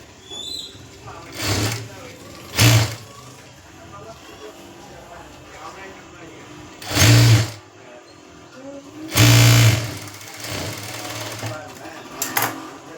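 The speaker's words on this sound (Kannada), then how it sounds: "ನೋಡ್ರಿ, ಫಸ್ಟ್ ಈ ರೀತಿ ಹೊಲಿಗೆನ ಹಾಕೋರಿ" Sewing machine stitching a collar on a blouse, several short whirring bursts of stitching separated by pauses, close and loud, with a person talking in between.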